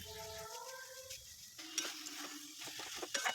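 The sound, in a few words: stirring minced meat with spices frying in a pan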